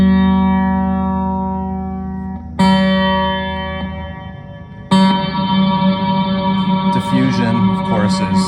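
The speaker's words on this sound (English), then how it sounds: "delay time and is how much delay precedes the onset of reverb" Guitar notes played through the reverb of a Hue multi-effect pedal with pre-delay, each struck chord ringing out with a long, smooth decaying tail, three separate attacks followed by lingering shimmer.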